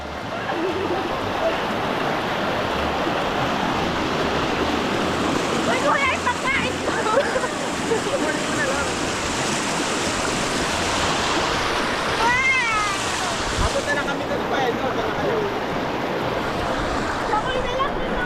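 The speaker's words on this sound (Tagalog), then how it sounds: "Ang lakas ng agos ah." A strong river current surges during a river crossing on a fishing trip, a continuous loud wash of rushing, splashing water with people's voices faintly mixed into the roar.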